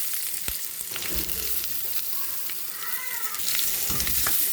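Onions sauté in oil with cinnamon, cloves and curry leaves as the base for a tripe curry. A steady, moderately loud sizzle runs throughout, with occasional stirring taps and a brief thin squeal near the middle.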